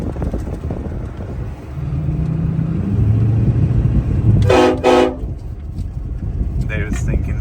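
A Ford F350 pickup truck at a railroad crossing gives two short, loud horn blasts back to back, heard over road noise and the hum of the cab, with a brief fainter toot following.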